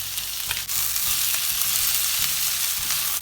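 Peppers, ginger, spring onions and garlic paste frying in hot oil, a loud continuous sizzle broken by quick stirring scrapes, close up and without voices.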